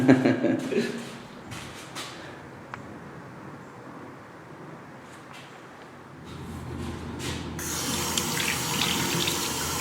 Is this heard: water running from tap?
yes